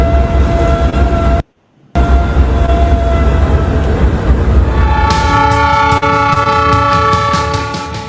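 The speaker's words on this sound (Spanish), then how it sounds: "un cortito de nuestro ferrocarril central andino" A Ferrocarril Central Andino train in Peru rumbles loudly and steadily with a brief gap in the sound, then sounds a sustained multi-tone horn blast that trails off near the end, with no talking.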